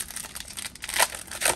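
Foil wrapper of an NBA Hoops trading card pack being torn and crinkled open by hand, close-up, in uneven bursts of crackling rustle with sharper rips near the end.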